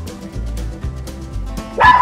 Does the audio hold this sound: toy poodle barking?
yes